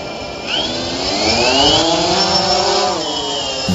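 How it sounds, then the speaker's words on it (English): A drone flies overhead, its motors giving a loud, steady high-pitched whine that rises and bends in pitch as it passes, with no voices. "That is the sound of a drone."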